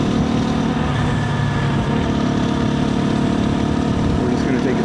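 KTM 350 EXC-F motorcycle engine idling, a loud continuous rumble with a steady buzzing hum that holds level throughout, likely with a voice mixed underneath.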